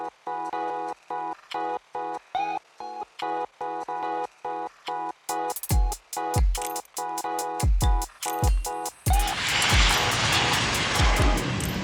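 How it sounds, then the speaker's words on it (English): Airliners at LAX taking off and landing on runway 24 left roar in the distance, a broad engine wash that swells into loud sustained noise at the end, broken up by a rapid series of sharp clicks. "watching the planes coming and going off of runway 24 left"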